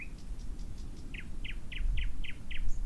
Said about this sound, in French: « Dois-je chanter encore pour l'empereur ?» demande Rossignol